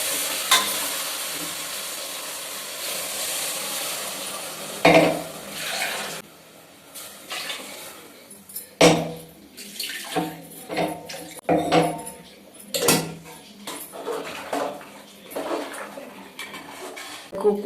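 Rajma masala frying in a pan as water is poured in, bursts of sizzling with spoon stirring and scraping against the pot, interrupted by brief pauses, close and moderately loud.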